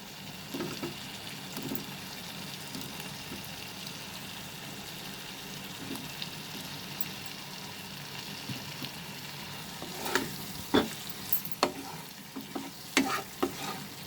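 Fried potatoes are sautéed with spices and cooked tomatoes for a prawn and potato curry, with a soft, steady sizzle and a burst of clattering spoon scrapes against the pan near the end.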